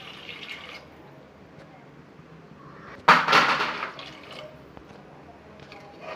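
Water pours in a short, splashing gush for about a second into a pot of mutton gravy, with quiet background noise before and after.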